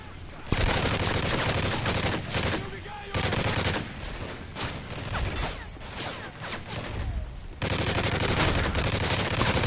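Gunfire in the video game Call of Duty: Modern Warfare 3 Spec Ops, loud bursts of automatic fire and scattered shots that stop and start in dense clusters, with a voice partly underneath.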